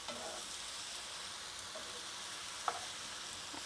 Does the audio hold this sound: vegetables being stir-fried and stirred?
yes